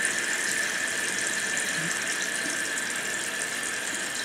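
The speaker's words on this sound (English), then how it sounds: "That'll keep the water coming in at a fairly fast pace" Water rushes into a running toilet tank through the ball cock fill valve, a loud, continuous hiss with a high squealing whine, steady and close throughout.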